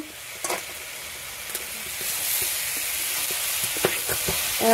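Fish frying in hot oil in a pan in a village kitchen, giving a steady, moderately loud sizzle and hiss that builds slightly toward the end, with a few faint clinks and stirring touches and no talk.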